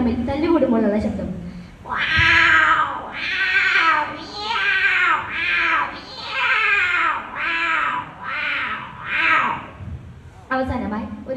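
A mimicry artist's voice imitates two cats fighting on a stage, producing a run of loud, drawn-out yowls and caterwauls in rising and falling bursts, close and continuous for most of the stretch.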